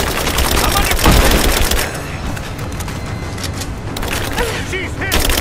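Bursts of automatic gunfire and explosions from a combat scene in the video game Rise of the Tomb Raider, loud and dense with rapid rattling volleys, mixed with shouting voices.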